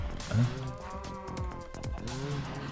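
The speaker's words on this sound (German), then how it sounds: "Sehr viele Kühe haben wir." Cows mooing in Minecraft, several low drawn-out moos overlapping from a herd, moderately loud with faint game background noise.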